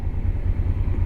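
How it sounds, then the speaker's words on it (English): A tractor engine rumbles past on a coastal road, a brief low pulsing throb at moderate distance. "Oh, it's a tractor."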